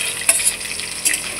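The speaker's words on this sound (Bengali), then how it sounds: "আমি এক এক করে মাছগুলো সব ভেজে নেব।" Fish pieces fry one by one in hot oil for a Bengali fish curry, giving a loud, steady hiss with a couple of brief crackling flares.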